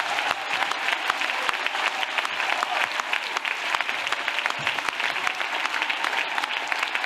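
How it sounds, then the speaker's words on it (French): A church congregation at a prayer and intercession gathering claps for Jesus Christ in sustained, lively applause, with many hands beating steadily and evenly across the whole stretch. "Let's clap for Jesus Christ."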